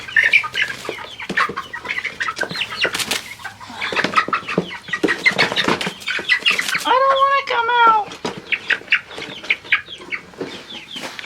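Many young chickens cluck and squawk close by in a grow-out pen, with bursts of wing flapping and a loud crowing call midway; the flock noise is continuous.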